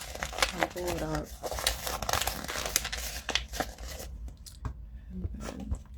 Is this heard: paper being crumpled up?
yes